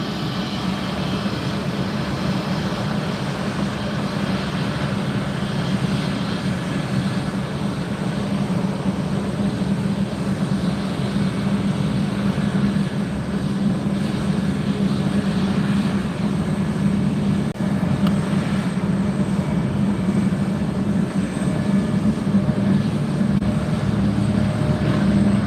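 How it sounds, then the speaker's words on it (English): A Douglas DC-3 propeller airliner passes at a Florida airport, its engines making a loud, steady, broadband drone that holds without a break and without voices. "There goes the DC-3."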